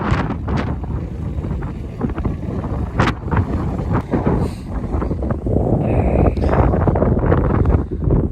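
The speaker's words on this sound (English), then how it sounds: "So windy." Strong wind roars and buffets steadily across the microphone, loud and continuous, with no voices.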